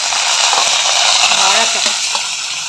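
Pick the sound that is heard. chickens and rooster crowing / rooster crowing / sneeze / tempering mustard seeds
tempering mustard seeds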